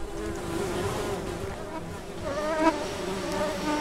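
Flies buzz steadily around a woman and apples in a video game, a continuous droning hum with wavering pitch that holds close and fairly loud throughout, no voices over it.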